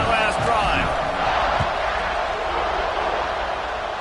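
Stadium crowd roaring steadily in College Football 26 during a kickoff, a dense continuous wash of cheering that stays loud throughout, with faint commentary-like voices mixed in.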